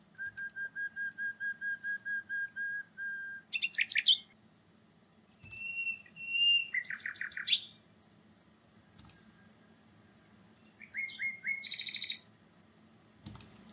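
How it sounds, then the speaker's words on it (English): Nightingale whistle song: a series of tonal syllables at steady pitch, starting with a fast run of repeated identical whistles, then varied higher whistles and short buzzy bursts, clear and fairly close over a low background hum. "The whistle song is a prominent song type within the rich repertoires of nightingales"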